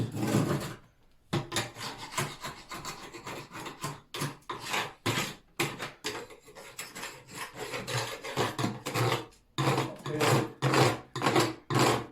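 A hand tool rasps rough edges off a wooden window shutter in steady back-and-forth strokes, loud and close, with brief pauses between strokes and no talking.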